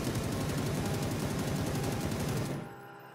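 A Beryl M762 assault rifle fitted with a compensator fires a continuous full-auto burst in PUBG, loud and rapid with a steady rhythm, then cuts off and leaves a short fading tail.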